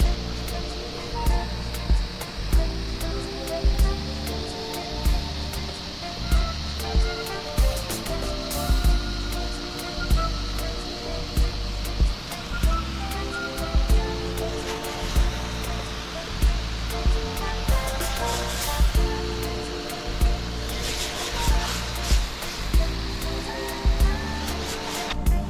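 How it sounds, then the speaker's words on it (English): A pressure sprayer hisses steadily as it sprays cleaning solution across a house roof, a continuous rushing wash broken by periodic thumps and pump pulses, with faint voices now and then. "Now we're gonna spray this area here."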